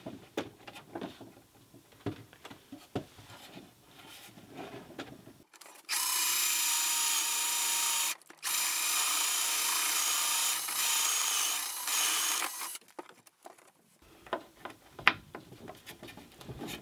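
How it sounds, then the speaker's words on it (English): A power drill bores a 13 mm hole through wood from the back side, a loud steady whine running about eight seconds with one brief break, set between quieter workshop handling sounds. "we're going to drill from the back side here and create a 13 millimeter hole that goes all the way through and comes out the face"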